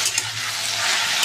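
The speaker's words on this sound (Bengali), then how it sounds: "আলু বেগুনটা ভালো করে ভেজে নিয়েছি" Potato and eggplant frying in oil, a brief continuous hiss of sizzling with faint stirring scrapes near the start.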